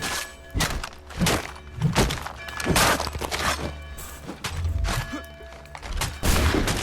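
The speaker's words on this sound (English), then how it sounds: "Fired that shot." Shots and heavy thuds in a video game about young Connor's life: a busy, loud sequence of repeated sharp impacts and booms at irregular intervals over a rumbling game-sound backdrop.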